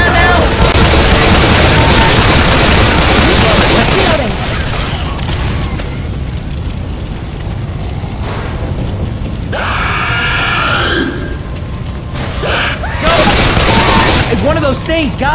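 Dense, loud bursts of gunfire and booms in the zombie shooter Left 4 Dead 2 fill a hotel level, easing into a quieter stretch of rumble with voices and groans before heavy shooting resumes near the end.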